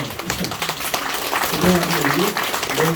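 Audience applause at a Gwangju Lee clan memorial and award ceremony, greeting recipients of plaques of merit; steady broadband clapping fills the clip at moderate level, with a voice speaking faintly over it.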